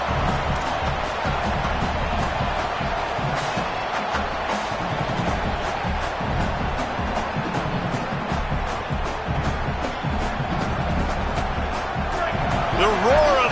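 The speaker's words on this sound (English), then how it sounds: "The roar of the crowd trying to fuel this defense to keep them pinned in their own end" A football stadium crowd roaring to fire up the defense late in a game, a sustained, dense wall of cheering with thumps and claps, while a commentator talks over it.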